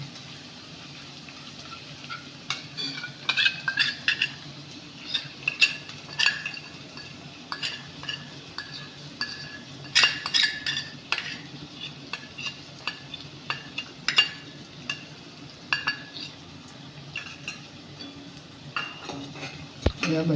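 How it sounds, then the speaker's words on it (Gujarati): Tindora (ivy gourd) being stirred in a pan with a chilli-turmeric paste, giving repeated soft metallic clinks and scrapes of a spoon against the pan over a low sizzle, steady throughout with no talking. "આ બધું જ આપણે હલાવી દઈશું."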